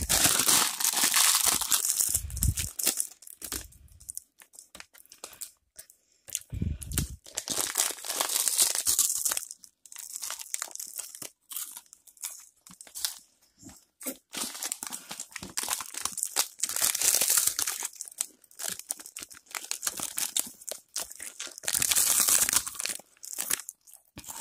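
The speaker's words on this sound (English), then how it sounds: "I'm gonna eat this popcorn barrel" Popcorn formed into a ball is crunched and crinkled in steady, close bursts for the whole stretch, with loud crackling chews and no talking.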